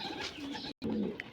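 Pigeons kept in a room, roughly 250 to 300 birds: soft, low cooing and rustling murmur from many birds close by, broken by a brief silent gap and a faint higher chirp near the end.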